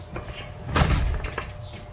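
A sliding door, its rollers just repaired, rolls shut with a brief rumbling glide and a firm thud near the middle, close and fairly loud, with no talk.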